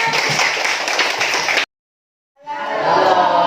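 Classroom applause at the end of a student group presentation: dense clapping from many students fills the first second and a half, breaks into a short silence, then resumes steady and strong.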